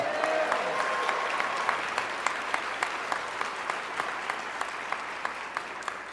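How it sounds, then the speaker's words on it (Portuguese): A church congregation bursts into sustained applause during a worship service, a dense, loud wash of clapping from many hands that keeps going throughout with no one speaking over it. "Se você crê, dá um glória e aplaude para valer."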